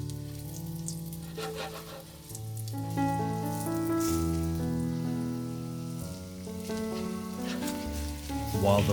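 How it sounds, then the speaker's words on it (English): Potato balls fry in a pan with a soft, constant sizzle and crackle, heard close but faint beneath louder tonal background music. "Now place the balls in the pan and fry them for about 5 minutes until they develop a golden, appetizing crust"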